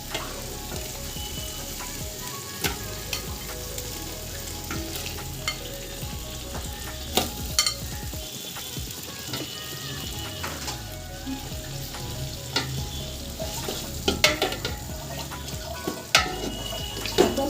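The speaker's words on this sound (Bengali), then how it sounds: "এখন মশলার সাথে গোস্তগুলো ভালোভাবে মিক্স করে নেব।" Duck meat is stirred and fried with spice paste in a pan, producing a continuous sizzle with repeated scraping and clinking stirring strokes, close and alone without talk.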